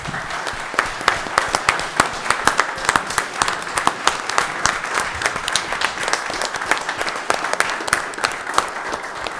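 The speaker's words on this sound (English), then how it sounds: "So let's give Anita a round of applause, please." Steady round of applause from a crowd at a town board of commissioners meeting, dense overlapping claps sustained for several seconds at moderate loudness with no talking.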